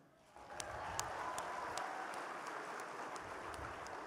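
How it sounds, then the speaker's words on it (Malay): An audience at a national squad launch ceremony breaks into applause. It swells from quiet into a sustained patter of many hands, with a few sharper individual claps standing out. "Mari kita berikan tepukan yang di luar."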